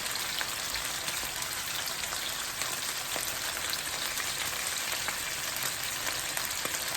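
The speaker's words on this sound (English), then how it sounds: "as the garlic cooks in this oil" Garlic sizzling in hot oil for a quick fish meal, a steady, close, dense crackle and spatter running evenly throughout with no voices.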